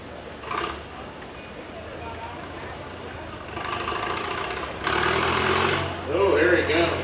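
Antique Minneapolis Moline tractor at a vintage tractor pull, its engine rumbling and building in loudness as it approaches, heard under an announcer talking over the crowd.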